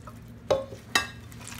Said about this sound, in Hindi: मैं इसको थोड़ा सा मिक्स कर लूँगी अच्छे से।